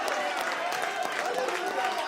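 Church congregation cheering and applauding in praise, a soft, continuous wash of clapping and crowd noise, fairly distant and steady throughout.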